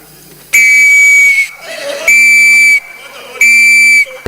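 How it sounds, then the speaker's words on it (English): A shrill whistle is blown three times in sustained, piercing blasts of under a second each, loud and close, with short pauses between blasts. "I am blowing the whistle for the second time."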